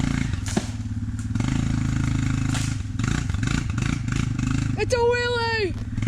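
Dirt bike on a trail popping a wheelie, engine chugging and revving close by with clattering thumps, ending in a sharp rising whine as the throttle opens; voices are heard too.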